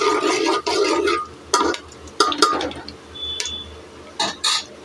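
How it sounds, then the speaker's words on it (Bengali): Whole garam masala spices dropped into hot oil in a pan, popping and crackling in loud, uneven bursts with brief gaps and a few metallic clinks, heard up close without speech. "দেখো অলরেডি ফটফট করে ফাটছে সবগুলো।"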